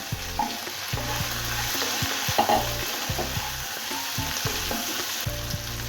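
Hilsa fish heads sizzle in hot oil with green chillies and chopped tomato, with a spatula scraping and stirring the pan in a steady rhythm, loud and close throughout.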